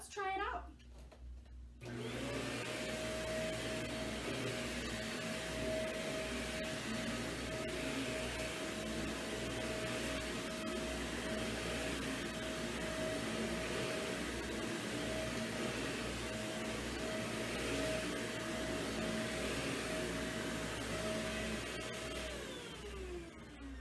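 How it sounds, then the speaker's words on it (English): A vacuum cleaner runs steadily and loudly for nearly the whole stretch during a household vacuuming demonstration, a constant motor whine over broadband airflow noise that switches on near the start and winds down at the end. "I hold the vacuum with my right hand and hold the cord with my left hand."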